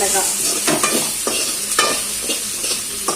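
Okra sizzles steadily in hot oil in a pan, broken by repeated scraping strokes of a spatula as it is stirred, close by and without talk.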